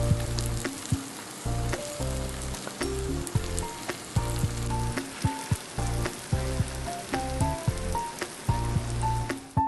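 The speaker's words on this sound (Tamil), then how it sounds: "போட்டு நாம் எல்லாத்தையுமே கோல்டன் ப்ரௌன் கலரில் போட்டு பொரிச்சு எடுத்துடலாங்க." Spring rolls deep-frying in hot oil for a veg spring roll dish, giving a steady close sizzle and bubbling with brief clatters over a strong tonal backing layer throughout, no voices.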